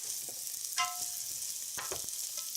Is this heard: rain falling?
no